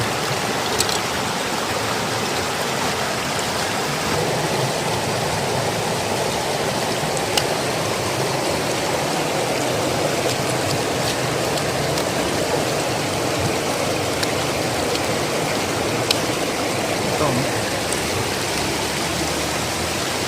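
Running water washes over bonsai material for a cascade-style bonsai, a steady, close rushing splash that holds evenly throughout with no talk.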